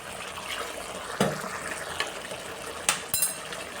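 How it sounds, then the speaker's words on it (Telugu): A small splash of water poured into a pot of garlic chicken curry: a steady soft liquid rush with a few sharper splashes and clinks, heard close and alone. "కొద్దిగా నీళ్ళు పోసుకొని వేస్తాను"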